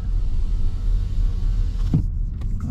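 A low motor hum runs steadily inside a Volkswagen ID.5 electric car, then a short whir and soft thump as a power window finishes moving.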